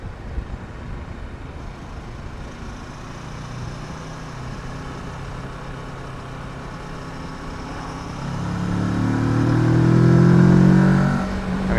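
A Kawasaki Versys 650 motorcycle on a Sunday ride hums along steadily under road and wind noise, then its engine swells into a rising, louder acceleration near the end before easing off slightly.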